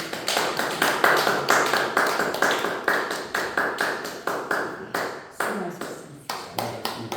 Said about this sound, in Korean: 하나님께 영광의 박수 한번 올리도록 하겠습니다